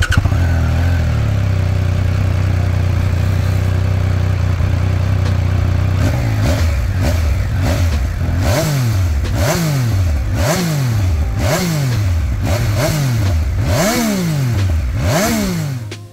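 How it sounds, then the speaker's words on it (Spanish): A Triumph Speed Triple 1200RR motorcycle idling with a steady loud exhaust drone, then revved repeatedly in quick rising and falling bursts, about a dozen sharp throttle blips in succession. "este tiene un sonido con mucho volumen, sobre todo cuando abrimos a más de medio gas el acelerador"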